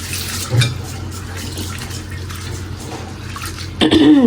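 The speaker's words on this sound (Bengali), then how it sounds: "চালটা ভালো করে ধুয়ে নিই প্রথম" Two kinds of rice, one brought from a village and one store-bought, are swished and rinsed in water for khichuri, giving a steady close splashing and sloshing, with a brief louder clatter near the end.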